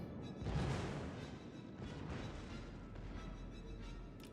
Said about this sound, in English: Secondaries really do fire off decently.